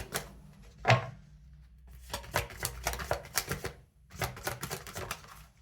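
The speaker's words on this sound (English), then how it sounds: "Again, I'm shuffling these cards quite a bit." Tarot cards being shuffled close up in a quiet room, with a sharp tap and then bursts of crisp riffling clicks separated by short pauses.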